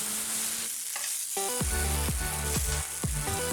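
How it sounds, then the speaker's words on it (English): Haggis sausages frying in a cast iron skillet with a steady bright sizzle, broken by a series of spaced knocks and scrapes as the meat is stirred and turned. "fry it all up in a cast iron skillet until it was well done and ready to eat"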